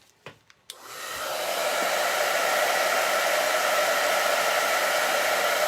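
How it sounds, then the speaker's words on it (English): A hair dryer drying paint on a mixed media collage clicks on after a few handling knocks, then spins up to a loud, steady, close whooshing blast that continues unbroken. "let me hit this with a hairdryer real quick"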